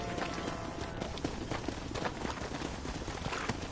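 Horse hooves galloping in the Western video game Red Dead Redemption, a quick, rhythmic run of clip-clop hoofbeats heard over a dense, busy background without talk.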